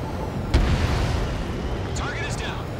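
Bombs exploding on a ground target in Ace Combat 7: a sharp, heavy blast followed by a rumbling roar under continuous jet noise, with radio voices talking over it.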